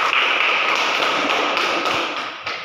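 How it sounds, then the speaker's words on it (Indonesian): A classroom audience applauds, a dense, steady patter of many hands clapping at close range for a few seconds before tapering off slightly, with no talking. "Terima kasih berikan aplaus."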